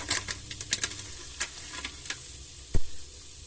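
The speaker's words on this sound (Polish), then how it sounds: "Chwilę przesmażymy, oczywiście dodając do tej soi przyprawę do gulaszu" Soy chunks fry in a pan for a vegetable goulash, giving a low sizzle broken by quick stirring scrapes and taps, with a sharper clack near the end.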